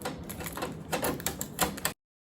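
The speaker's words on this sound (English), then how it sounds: "make sure that we take off all this blue protective tape" Blue protective tape is peeled off an Epson EcoTank ET-2803 inkjet printer, giving close, crackly tearing and ripping sounds in short bursts before stopping abruptly.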